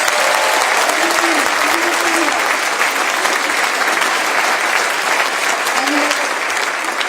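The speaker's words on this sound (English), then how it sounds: "Let's give Morgan another round of applause" A university address audience applauds a student named Morgan, loud, sustained clapping from a large crowd that holds evenly throughout with no break.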